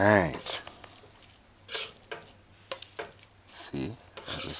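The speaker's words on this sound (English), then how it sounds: "See, I just stir it." A spoon stirs soy mince sloppy joe simmering on very low in a pan. Close, irregular scraping and soft clattering strokes come in short bursts, with a person talking.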